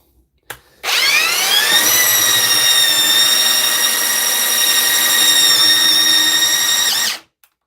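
A Mellif brushless sander spins up quickly and holds a loud, steady whine with a bright tone for about six seconds, then winds down. A short knock comes just before it starts.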